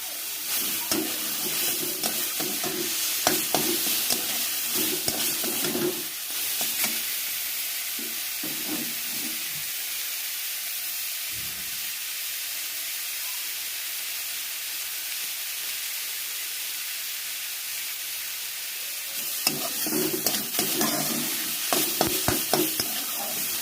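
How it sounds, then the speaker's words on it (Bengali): Nigella seeds sizzle in hot oil for a traditional home-cooked dish, a steady close hiss that swells with bursts of stirring at the start and again near the end, with no voices. "তেলটা গরম হয়ে গেছে, আমি এবার কালো জিরে ফোড়ন দিলাম।"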